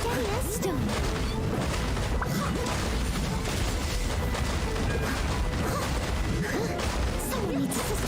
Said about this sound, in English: Although it is kind of fun just smashing rocks.